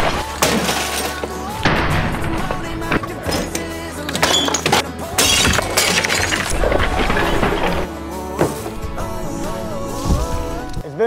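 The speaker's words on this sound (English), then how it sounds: "I'm about to grab a baseball bat, and we're gonna smash more stuff." Repeated crashes of glass shattered with a baseball bat and heavy impacts over loud music, with occasional voices, continuing throughout.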